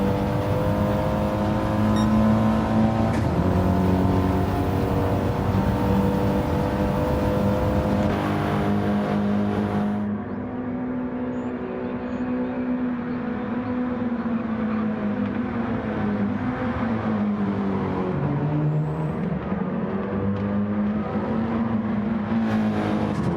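A race car laps Suzuka in the Gran Turismo video game, its engine a steady, buzzing drone whose pitch climbs and dips with the gear changes and corners, continuous throughout with no talking.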